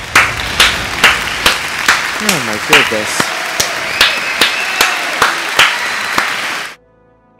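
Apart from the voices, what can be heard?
crowd clapping and applause in video game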